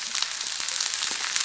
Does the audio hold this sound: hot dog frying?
yes